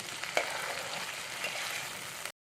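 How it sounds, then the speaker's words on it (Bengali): Tomato and green chili sizzle steadily in a hot pan, a dense continuous frying hiss with a couple of soft scraping stirs, close and alone. "টমেটো কাঁচা লঙ্কা দিয়ে দিলাম দিয়ে এটাকে আমি এবার ভালো করে নেড়ে নিচ্ছি"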